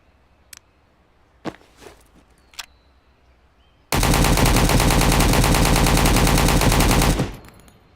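Automatic rifle fire in the survival shooter game Road to Vostok, a few footsteps and clicks, then one long, loud, close sustained burst of rapid shots that cuts off abruptly.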